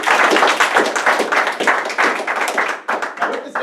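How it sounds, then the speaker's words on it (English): An audience claps for volunteers called up during a speech, a dense round of applause filling the whole moment at steady loudness with scattered cheers mixed in. "Let's first off give my volunteers a round of applause."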